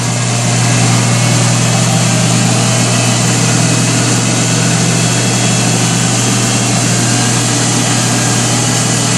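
A 1965 Monarch 10EE lathe's electric motor runs steadily, a constant loud mechanical hum with a strong low tone and broad whirring noise that holds unchanged throughout, with no talking.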